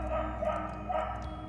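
A dog barks a couple of times inside the Trick & Treat video game, with the barks recurring as short bursts over a steady musical game backdrop.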